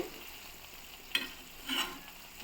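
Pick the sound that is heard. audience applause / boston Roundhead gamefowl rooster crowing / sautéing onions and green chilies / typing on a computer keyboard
sautéing onions and green chilies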